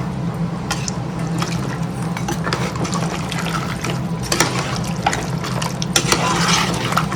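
Water pours steadily into a pot of mutton head curry, a continuous close splashing rush that lasts the whole stretch with no pause.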